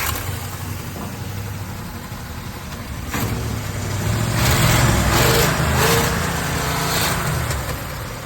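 A 1968 Chevrolet Impala convertible engine idles steadily near the microphone, its low rumble building slightly in intensity partway through and holding a continuous, even drone to the end.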